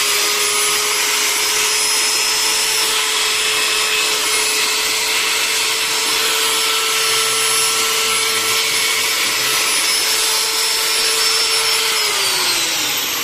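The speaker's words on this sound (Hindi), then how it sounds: "ये हमारी डाई ग्राइंडर है, मुख्तलिफ कामों के लिए आप इसे इस्तेमाल कर सकते हैं" An electric die grinder runs after being switched on, giving a loud, steady high-pitched whine that holds constant for several seconds before its pitch drops slightly as it slows near the end.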